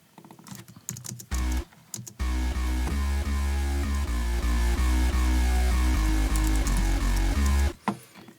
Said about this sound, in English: What I'll use is I'll use the growl bass.